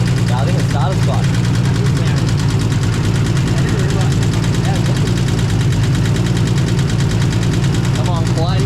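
A long-idle Nissan A31 Cefiro engine runs with a steady mechanical ticking, a continuous near idle drone with vibration and a rough edge, heard close by with little else over it.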